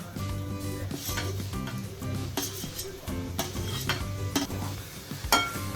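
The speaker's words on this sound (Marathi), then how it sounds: "यामध्ये आपण बारीक चिरलेले म्हणजे चॉप केलेली जी अंडी आहे उकडलेली ती टाकणार आहे" Chopped boiled eggs are stirred into frying masala in a pan, with continuous scraping and clattering of a spoon against metal over a steady sizzle, close and busy throughout.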